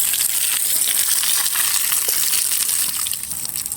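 Water gushes and splashes into a construction mix for a stair-building job, a loud, continuous hissing pour that eases off slightly near the end, heard alone.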